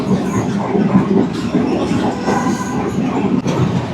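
A Sri Lankan rail bus rumbles steadily along a single-line track through villages, with continuous wheel and engine rumble filling the scene at close range and no speech.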